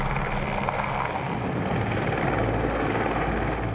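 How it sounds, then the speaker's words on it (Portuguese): A rescue helicopter hovers while hoisting an injured person, a dense, steady rotor wash and turbine roar filling the whole stretch without pause. "Içado pelo helicóptero, Juliano ainda corre grande perigo."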